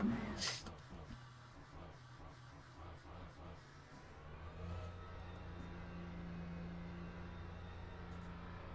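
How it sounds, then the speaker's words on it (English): An LMP2 prototype race car in Le Mans Ultimate accelerates hard, its engine note climbing through rapid gear shifts before settling into a steady high drone, fairly quiet overall. "Love this car. Love the sound of the acceleration too."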